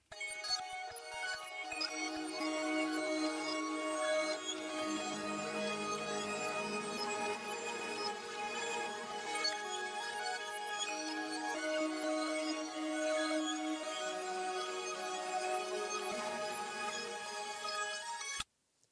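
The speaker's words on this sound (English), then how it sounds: "we also routed it into another bus that has auto chroma and halftime" Synth melody in FL Studio routed through a bus with auto chroma and halftime effects, a dense, slowed, smeared chordal line sustaining evenly for most of the clip before cutting off abruptly near the end.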